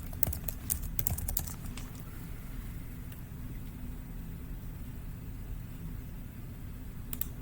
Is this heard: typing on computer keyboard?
yes